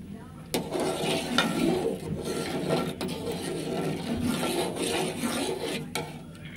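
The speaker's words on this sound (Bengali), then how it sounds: "ভালো করে আমাদের নাড়তে হবে এটাকে।" A pot of payesh made with homemade flour rice is stirred steadily, a continuous scraping rasp of spoon against the pan running throughout, fairly close and even, with no talk over it.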